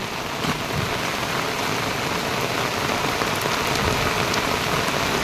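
Heavy rain falls steadily at a stream in the Konkan region, a dense, even hiss of drops striking water and ground, continuous and close with no voices.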